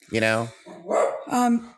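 A dog barks three times in quick, uneven succession, close and fairly loud, mixed with voice-like tones.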